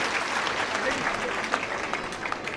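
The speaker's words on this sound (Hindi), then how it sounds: "एक बार जोरदार ताली के साथ स्वागत करो माथुर जी के" A dense wash of crowd applause welcomes a guest at a political rally where supporters join the BJP, a continuous hiss of many hands with a murmur of voices beneath it.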